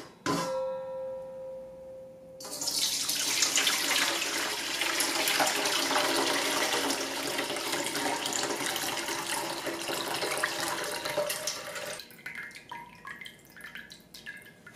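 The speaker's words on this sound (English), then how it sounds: "I always like to rinse the rice a few times with water" Steady running water from a tap pours over uncooked rice being rinsed by hand in a bowl, a continuous splashing rush that stops abruptly near the end, with no talk.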